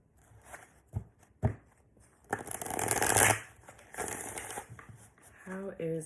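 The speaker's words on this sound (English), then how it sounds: "One more shuffle for Aquarius" Tarot cards being shuffled by hand, a few sharp taps followed by a longer riffling burst and softer card handling, close and quiet, with a voice talking briefly at the end.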